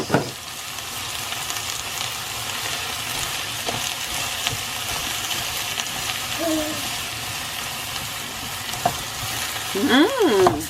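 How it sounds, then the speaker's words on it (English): Steady sizzling of vegetables and prawns frying in a pan, with occasional scrapes and stirs, continuous and close throughout. "I'm just frying the veggies a little bit"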